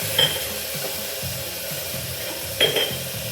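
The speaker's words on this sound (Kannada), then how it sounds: "ಟೊಮೊಟೊ ಆ್ಯಡ್ ಮಾಡ್ತಾ ಇದ್ದೀನಿ" Tomato going into a frying pan for millet pulao, a steady close sizzle with a couple of brief metallic clinks from a utensil against the pan, no voices.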